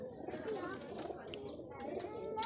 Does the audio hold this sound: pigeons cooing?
yes